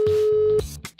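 Steady telephone tone sounds for over half a second inside an ancient Roman city-building game, then cuts off and leaves short bursts of game sound.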